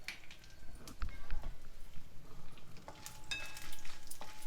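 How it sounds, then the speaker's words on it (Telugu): Dried red chillies, mustard seeds, cumin and peanuts fry in hot oil with a steady close sizzle and crackle, broken by the scrape and clink of stirring in the pan. "ఇవన్నీ బాగా వేయించుకోవాలి."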